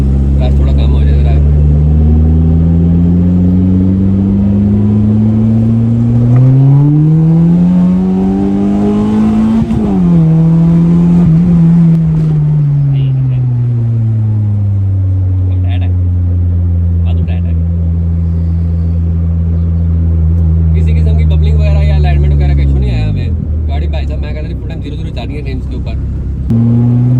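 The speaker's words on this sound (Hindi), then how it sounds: "अब आ चुके हैं दूसरे गेयर के ऊपर। और जरा इसके पावर बैंड वाले आर के ऊपर जाके जी एकदम से रेस पेडल देंगे" A car in second gear revs hard into its power band, with a loud, close engine note that climbs, dips and swells again in long sustained pulls.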